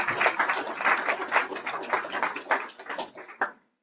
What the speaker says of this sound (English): A round of applause for these volunteers.